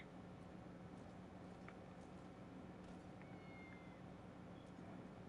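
A cat meows in a video game set in Los Santos, a few short faint meows over a constant hiss of background game sound, with no speech.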